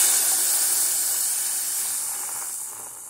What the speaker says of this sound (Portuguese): Agora eu vou colocar esse leite aqui com a maisena, ó.